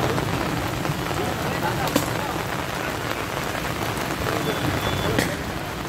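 Heavy rain pours in Hyderabad, a dense, steady hiss of drops striking surfaces, loud and continuous throughout with only faint scattered pops.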